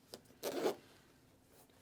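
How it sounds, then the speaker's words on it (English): A pocket zipper on an Alpinestars GP Force V2 Airflow leather jacket is pulled open in one quick rasping stroke, close and fairly quiet, after a small tick. "That was worth zipping open"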